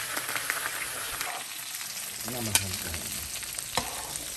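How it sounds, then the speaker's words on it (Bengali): Steady crackling sizzle of hilsa fish frying in hot oil, with a few sharper pops and a brief clatter partway through. "ইলিশ মাছটা ভাজলাম অল্প"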